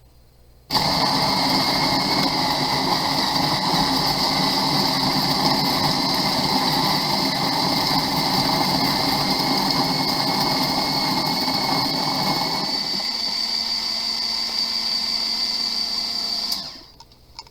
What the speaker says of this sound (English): So let's continue on into the roast, or into the grinder we go.